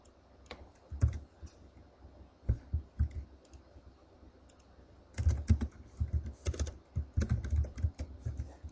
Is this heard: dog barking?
no